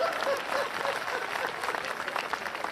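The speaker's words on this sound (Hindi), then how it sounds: "बात अच्छी लगे तो आप तालियां जरा बजा दिया करो।" Audience applause from a seated crowd at a Hindi poetry or comedy stage show, a steady, dense clapping that fills the room at close range without pause.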